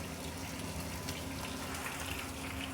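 Chicken kebabs fry in hot ghee, giving a steady, close, continuous sizzle and hiss that holds at even loudness throughout, with no voices.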